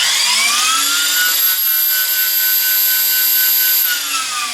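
Electric RC helicopter rotor head with VBar 5.2 governor spooling up during a bailout recovery: a loud, steady high-pitched whine with rising tonal harmonics that holds level, then eases slightly at the end, with no voices.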